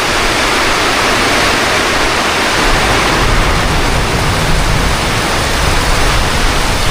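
Typhoon rain and gusting wind driving into a house during a storm, a loud, dense, unbroken roar of downpour and wind with no voices.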